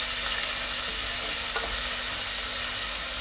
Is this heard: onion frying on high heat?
yes